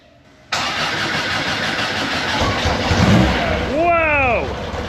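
A car engine turns over and catches, then roars loudly and steadily as throttle is applied, with a rising whine sweeping upward near the end.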